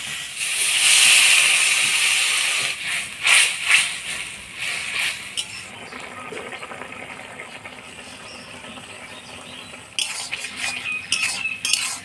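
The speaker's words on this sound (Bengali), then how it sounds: "শাকটা ভালো করে ভাজা ভাজা করে নিলাম। এবার জল দিয়ে দিই।" Water poured into a pan of frying sweet potato greens with chopped green chili and a little turmeric sets off a loud, close hissing sizzle for about two seconds. It fades into softer bubbling with light utensil clinks and a brief renewed hiss.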